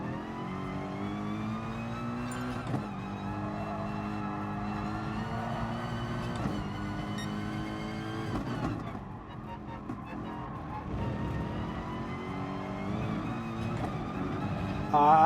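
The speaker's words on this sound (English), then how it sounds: "That Corvette's going to be really hard to get past." A Chevrolet Corvette race car in GT Sport revs hard through repeated upshifts, its engine note climbing and dropping in steady cycles, with other racing engines close by.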